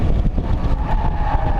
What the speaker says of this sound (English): It is flat out through the Craner curves in an MX-5.